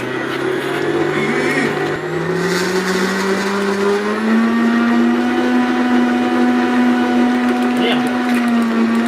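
A cheap Amazon kitchen robot makes a loud, steady motor whine while blending pâté, its pitch climbing as it speeds up to the second setting and then holding a constant high drone.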